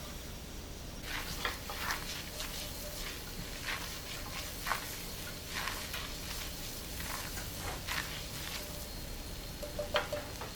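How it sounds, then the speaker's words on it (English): Flour cooks in a pan over medium-low heat, crackling in a steady sizzle while a utensil scrapes and stirs it in repeated close strokes, with a few sharper clicks near the end. "mix this in and allow it to cook for about 1 minute to 2"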